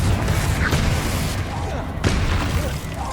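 Confringo fire-blast spell hitting in Hogwarts Legacy combat, loud booming impacts with sharp bursts near the start and middle over continuous rumbling battle noise.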